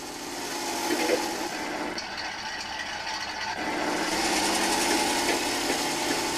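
An engine running at half throttle on a slow-speed four-shaft machine, giving a steady, continuous mechanical hum and whir with a slight rise in level toward the end.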